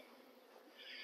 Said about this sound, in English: Now it does cause a little bit of a stir with the bees returning